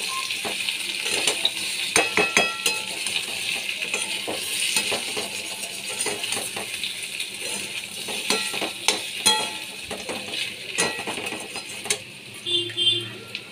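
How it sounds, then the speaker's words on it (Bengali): Gathi kochu taro and potato pieces fry together in a pan with a low, steady sizzle. A utensil stirs them and knocks against the pan in sharp, irregular clinks, with no talking. "গাঠি কচু আর আলু আমি একসঙ্গে ভেজে নিচ্ছি।"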